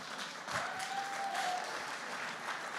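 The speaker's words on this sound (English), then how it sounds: "you can clap for that. Go ahead, folks." Audience applause at a State of the City address, a steady wash of clapping from a crowd that holds throughout without fading.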